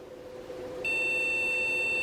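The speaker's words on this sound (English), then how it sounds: "let's turn it on and see what happens, see if we get more than one beep" A single sustained high-pitched electronic beep from a EuroPC computer starting up sounds up close over a low machine hum, starting abruptly and holding steady.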